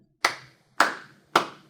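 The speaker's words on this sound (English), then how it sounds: "we're going to clap for the first 3 letters in Bingo's name" Three crisp hand claps, evenly spaced about half a second apart, each sharp and close with a short decay, keeping time for the letters of the Bingo song in a children's learning session.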